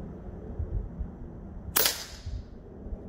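A single PCP airgun shot fired at a wild iguana in a tree in Florida, one sharp snapping crack with a brief hissy tail, standing out from a quiet outdoor background.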